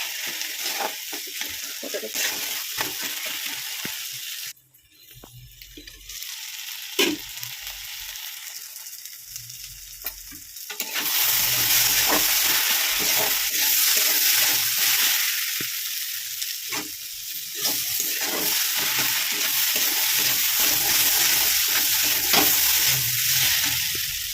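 Fish curry with raw bean seeds is sautéed in a pan in a village kitchen: a steady close sizzle with repeated stirring scrapes, a quieter stretch partway through, then louder frying again.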